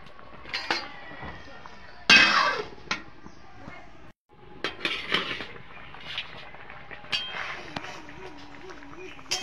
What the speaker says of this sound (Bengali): ঢাকনাটা তুলে আমি একটু নাড়িয়ে দেব।